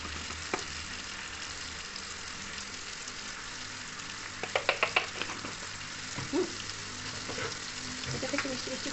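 Cumin powder and chili hit hot ghee in a Bengali home kitchen, giving a soft, steady sizzle with a short burst of crackles and stirring midway, faint and without talk.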